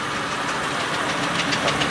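Steam traction engines at a heavy haulage arena of a large steam fair run continuously with a steady, loud, rumbling chuff and mechanical knock, close and without speech.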